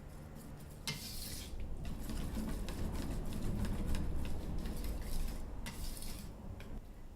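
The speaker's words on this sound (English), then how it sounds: "just stir until it's all combined" A whisk stirs chocolate ganache in a bowl, making soft wet swishing and scraping strokes with a few sharper clinks against the bowl, close by and quiet, with no talking.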